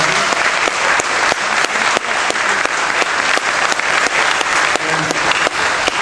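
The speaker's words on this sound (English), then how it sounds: "Round of applause for our" After a big-band performance at a national jazz workshop, a large audience gives loud, sustained applause, with thick continuous clapping and sharp individual claps standing out throughout.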